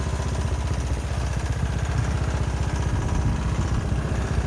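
A Kandi 250cc go-kart engine runs steadily at a fast idle, a loud continuous close-up drone with rapid even chugging pulses throughout and no pauses.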